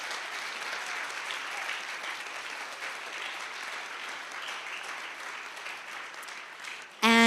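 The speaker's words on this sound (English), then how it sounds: "let's just give them a very big round of applause" Steady, even applause from a large audience at an international yoga festival keeps going with little change, then a sudden louder sound breaks in at the very end.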